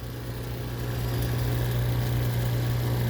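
VAC Nexus One vacuum blowers start up and run, a steady loud droning hum with a strong low tone and broadband rushing noise holding constant throughout, with no talk.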